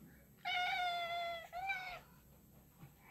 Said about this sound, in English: It's a good kitty cat.